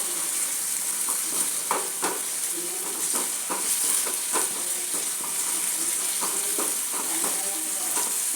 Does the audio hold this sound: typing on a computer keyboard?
no